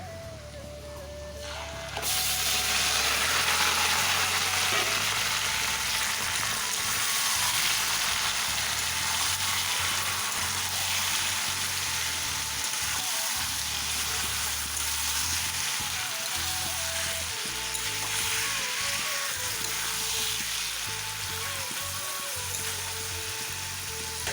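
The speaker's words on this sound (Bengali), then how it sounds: "পেঁয়াজগুলো ভালো করে লাল লাল হয়ে গিয়েছে তো এখন মাংসগুলো ঢেলে দেবো" Meat hits a pan of browned onions with a sudden loud burst of sizzling that then holds steady and dense, a close continuous fry with a few faint clinks underneath.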